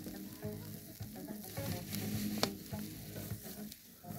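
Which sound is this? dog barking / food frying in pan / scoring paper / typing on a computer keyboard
food frying in pan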